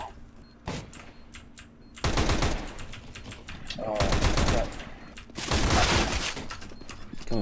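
Rapid gunfire in CS:GO comes in several dense bursts of automatic shots, loud and close, with brief quieter gaps between volleys and faint game sounds underneath.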